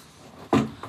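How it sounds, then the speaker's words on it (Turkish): A door shuts with a single solid thud, followed by a softer knock a moment later, close by in a quiet room. "Kapıyı kapat."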